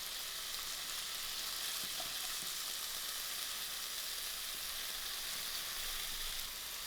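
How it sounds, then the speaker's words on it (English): Sausage meat and liver frying over lowered heat in a pan, a faint, continuous hiss and sizzle with a few soft scrapes as the meat is broken up, no voices. "I'm going to lower my heat and allow this to fry."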